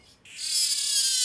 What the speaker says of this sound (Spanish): Como solo estridulan los machos, muchos investigadores creen que su canto está relacionado con la atracción de las hembras.